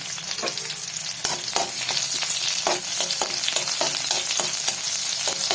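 Cumin seeds and two green chilies sizzle in hot ghee in a pan for an Ekadashi fasting thali, a steady close crackle broken by scattered sharp stirring clicks, with no talking.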